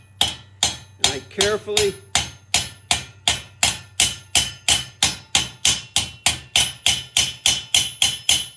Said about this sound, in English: peen that rivet over.